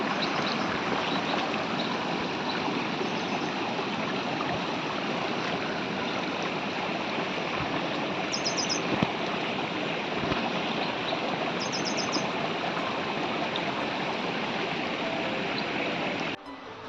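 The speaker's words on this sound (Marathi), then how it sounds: "हे जे आता तुम्हाला पाणी दिसतंय जे शांत प्रवाह करत आहेत" A Konkan river swollen by heavy overnight monsoon rain flows calmly, producing a steady, continuous rushing wash of water without pause.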